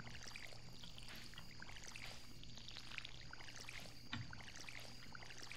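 Watering crops in the farming game Stardew Valley, with soft pouring and splashing water effects repeating over a faint steady background of game music and tones, no talk.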